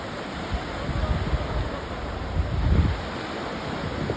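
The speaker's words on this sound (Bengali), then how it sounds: "দেখুন জলের কি ঢেউ" Sea waves surge and wash at Digha beach, heard as a steady low roar with wind buffeting the microphone and a louder swell near the end, no voices present.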